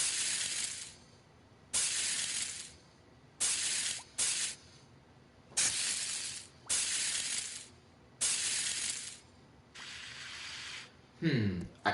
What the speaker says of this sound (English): Maybe you need a sizzle, right?